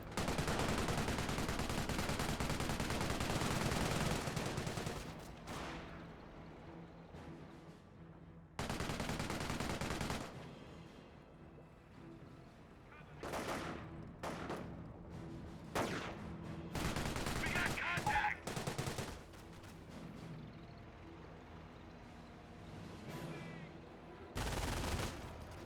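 MMG carrier machine gun fire in a Company of Heroes World War II battle, with long sustained bursts and shorter rattling volleys broken by gaps, plus scattered explosions and other gunfire throughout.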